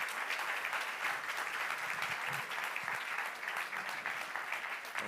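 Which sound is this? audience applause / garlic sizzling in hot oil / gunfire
audience applause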